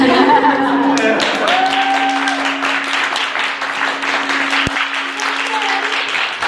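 Light scattered clapping from a small audience at a birthday party comedy set, thin and uneven with a sustained tone running underneath.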